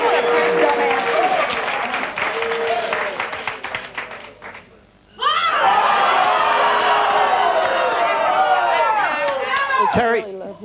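Studio audience booing and yelling at a daytime talk show, a loud continuous crowd roar that drops briefly before surging back, with voices shouting over it.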